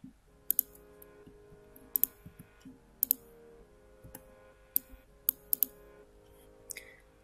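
Sparse, quiet computer mouse clicks, single and doubled, sound during circuit design work in Altium Designer, with soft low background hum and faint room noise between them.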